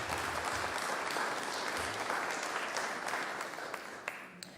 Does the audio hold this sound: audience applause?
yes